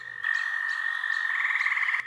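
Frogs croak at night in a loud, sustained trilling chorus with a steady pulsing rhythm, close by and with no talk.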